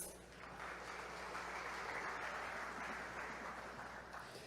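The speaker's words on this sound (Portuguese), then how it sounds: "Uma salva de palmas." Steady applause from an audience at an agricultural technology event, a dense even patter lasting throughout at moderate distance, fairly faint overall.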